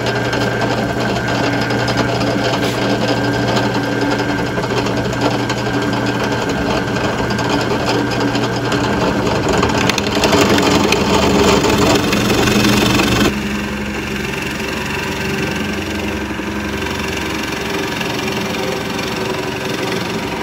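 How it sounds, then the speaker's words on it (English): A drill press bit bores out a wedge-shaped hole across a wooden board, a loud, steady motor drone that runs without a break and drops to a slightly lower, softer tone partway through. "Bit did a really good job of hollowing out that wedge hole"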